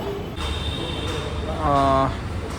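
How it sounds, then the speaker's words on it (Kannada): A metro train pulls into a station with a steady, loud rumble and a brief high squeal of wheels or brakes near the end. "ಇವಾಗ ಟ್ರೈನ್ ಬರಬೇಕು ಬಂತು ಟ್ರೈನು"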